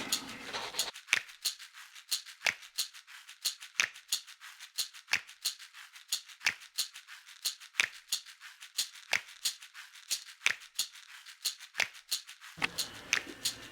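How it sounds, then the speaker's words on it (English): Scissors cutting out a paper template for a clay cube project, a steady run of about twenty crisp snips at a regular rhythm, close and clear, with no talking. "Now I'm going to cut this out."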